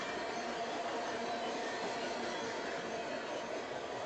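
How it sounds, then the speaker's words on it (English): Freight train with a string of boxcars rolling past trackside, a steady broadband rumble and rail roar holding level throughout, close and continuous. "we have a string of boxcars here on the end of the train"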